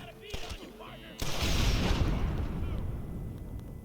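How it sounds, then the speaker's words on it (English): In the Red Dead Redemption video game, a sharp gunshot sets off TNT at a gang hideout, producing a sudden heavy blast that rumbles and slowly decays over a few seconds. "Feel free to shoot all the TNT when people are close."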